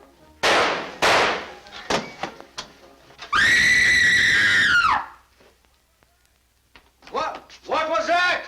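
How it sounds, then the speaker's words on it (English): A woman's long, loud, shrill scream in a 1940s drama rings out alone after sharp bangs and brief gasps, then fades as other voices and cries rise near the end. "Who screamed?"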